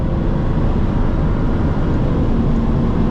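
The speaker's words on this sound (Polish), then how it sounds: "Ale z kickdownem już." A 2012 Mercedes SL500 with a 435 hp engine accelerates hard under kickdown on a motorway, a steady, loud roar of engine and road noise filling the cabin from start to finish without pause.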